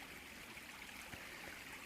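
Small creek flowing beside a hiking trail, a steady close rush and trickle of water running evenly without pause, no voices.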